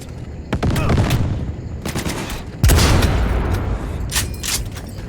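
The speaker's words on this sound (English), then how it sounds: "Firing this sniper with my headphones on is actually very blissful." Sniper rifle shots in Cyberpunk 2077 crack out as loud, sharp blasts, with one especially heavy booming report midway that rolls into a long rumbling tail over a dense background of game noise.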